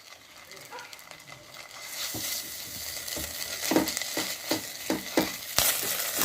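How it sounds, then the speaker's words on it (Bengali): Ginger-garlic paste fries in oil with onions and whole spices, the sizzle swelling from quiet to loud, punctuated by repeated spatula scrapes and clicks against the pan. "আদা রসুন আমার ভাজা হয়ে গিয়েছে"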